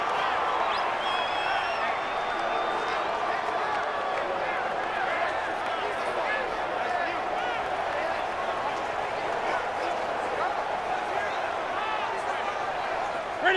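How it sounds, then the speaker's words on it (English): Stadium crowd in an NFL simulation game, a sustained roar of cheering and shouting at steady loudness before a big third down, with whistles and voices mixed in and commentary running over it. "the crowd getting into it as we come up on a big 3rd down"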